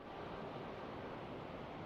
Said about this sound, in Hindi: आपको मेरे पीछे जो है वो नदी की आवाज़ सुनाई देगी, जो कि भागा नदी की एक सब ट्रिब्यूटरी है जो नीचे बह रही है।